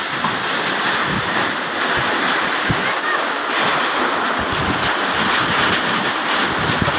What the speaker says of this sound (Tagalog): Palipat-lipat po yung hangin.